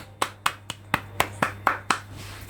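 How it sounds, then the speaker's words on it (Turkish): Eight sharp, evenly spaced hand claps from a single person, close and dry over a low steady hum, with no talking. "Alkış."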